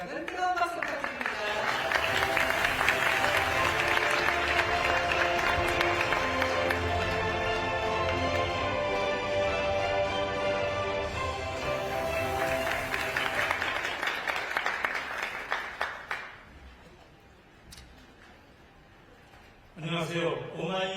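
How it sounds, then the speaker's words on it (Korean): A crowd at a news outlet's anniversary forum gives warm applause for the opening address, sustained clapping that swells, then tapers off around sixteen seconds before a brief renewed burst near the end. "여러분 뜨거운 박수 부탁드립니다."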